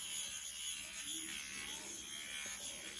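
An electric eyebrow trimmer gives off a steady, fairly faint buzz as it removes facial hair, holding an even tone for the whole stretch with no talking.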